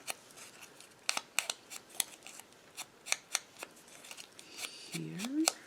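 Scissors snip paper in a run of sharp, crisp cuts, a dozen or so irregular clicks close to the microphone during paper crafting of a library pocket, with a short low voice murmur near the end.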